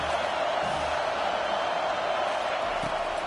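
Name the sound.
football stadium crowd cheering for the defense on third down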